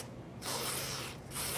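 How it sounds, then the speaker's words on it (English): WD-40 aerosol sprays onto a towel in two close hissing bursts, the first longer and the second brief, loud and alone. "We're going to take our WD-40, spray it on a towel,"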